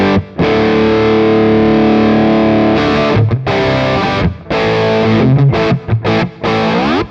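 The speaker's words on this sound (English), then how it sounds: "you can really hear it changes the characteristics of the distortion quite a bit" Guitar played through a software overdrive with asymmetrical clipping running on an STM32, giving a loud, sustained distorted tone with bursts of chords and short breaks, no voice.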